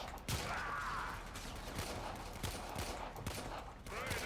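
Sidearm fire rings out in the sci-fi shooter Warframe, several quick gunshots at uneven intervals over continuous game music and ambience, with short mechanical clicks between shots.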